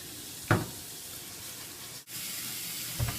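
A tap runs while hands are washed, a steady close hiss of flowing water with a couple of brief splashy bursts and one momentary break in the flow.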